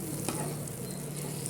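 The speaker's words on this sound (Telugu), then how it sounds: "కొంచెం కాలుతున్నాయండి కాయలు" Brinjals frying in ghee in a pan for a spicy stuffed brinjal dish, giving a steady, close sizzle and crackle with one brief clatter, no voices.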